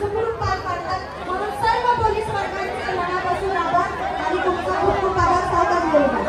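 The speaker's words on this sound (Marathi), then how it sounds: "फुल क्राऊड आहे मित्रांनो. फुल गर्दी आहे." Dense crowd chatter at a crowded Khandeshi festival in Badlapur, many overlapping voices filling the space continuously at close range.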